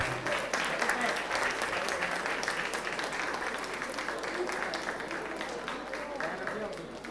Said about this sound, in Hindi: तालियां रुकनी नहीं चाहिए आज।